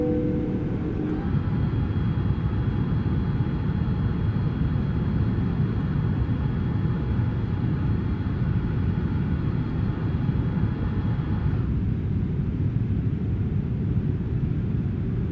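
Cockpit ambience in a simulated Toliss Airbus A330-900neo with Soundbox F-Mod sound set, a steady loud low engine and airflow rumble with faint tonal hums, a soft tone shifting partway through.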